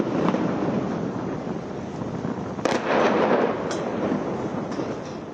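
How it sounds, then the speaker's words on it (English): A bombardment at Gaza's port comes as a series of distant blasts under a constant roar of wind and rumble, with a few sharper cracks standing out briefly. "a series of blasts a short while ago at Gaza's port"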